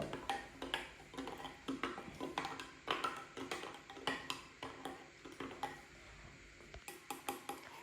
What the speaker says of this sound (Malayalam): നമ്മൾ കുറച്ചിങ്ങനെ ഒന്ന് ഇളക്കി കൊടുക്കണം നന്നായിട്ട് മിക്സ് ആവണം